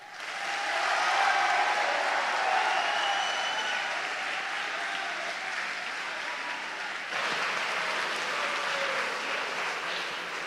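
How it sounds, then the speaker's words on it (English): A live audience applauds at a family event, the clapping rising quickly and holding steady and dense for about ten seconds, with a brief dip partway through before it continues. "let's give them all another round of applause"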